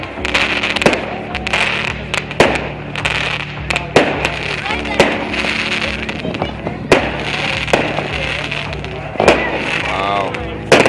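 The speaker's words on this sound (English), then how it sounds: "We have our firecrackers." Firecrackers bursting outdoors at an ice castle in a park in Edmonton, Alberta, Canada, a rapid irregular string of loud sharp pops and crackles running throughout, with voices talking underneath.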